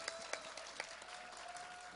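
Audience applause at a closing ceremony for a mixed a cappella group, a fairly faint, even patter of many hands with a few sharper claps standing out and a steady tone underneath.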